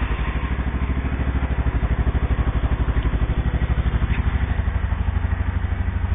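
A Yamaha SR motorcycle engine idles in freezing cold of minus fifteen degrees, with a rapid even single-cylinder thump, loud and close with no talking.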